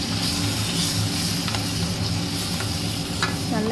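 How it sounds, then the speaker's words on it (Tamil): Ground tomato paste is sautéed in a pan for a vegetable gravy: a dense, continuous sizzle with occasional light spoon scrapes, close and steady, with no voices. "நல்லா இதையும் பச்சை வாசனை போகிற வரைக்கும் நல்லா வதக்கிக்கணும்."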